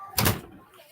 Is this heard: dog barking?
no